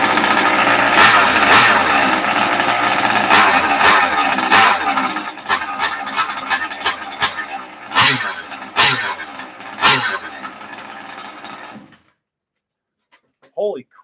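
A Rovan 71cc gas engine fitted with an SRE reed case revs hard and loud in repeated sharp throttle blips, then cuts off into near silence.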